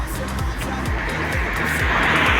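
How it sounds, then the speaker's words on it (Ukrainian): A car drives past on a rain-soaked street, its tires hissing and splashing through puddles in a steady loud wash that swells toward the end over a low engine rumble. "І зараз нас обхлепає машина."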